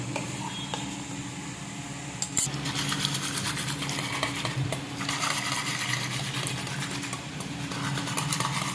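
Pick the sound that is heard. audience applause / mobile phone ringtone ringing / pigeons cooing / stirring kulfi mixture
stirring kulfi mixture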